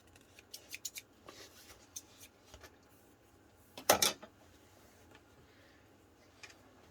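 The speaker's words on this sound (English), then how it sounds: "I'm just gonna trim the foam off wherever it is" Scissors snip and trim foam for a sewn beauty bag in a quiet room, a series of light crisp clicks and cuts with one louder, longer snip near the middle, close and with no talking.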